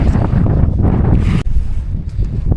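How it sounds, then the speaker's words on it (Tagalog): Strong wind roars and buffets the microphone continuously at an overcast salt farm in Malolos, Bulacan, a heavy rumbling gusting noise with no voices. "medyo malakas ang hangin at makulimlim"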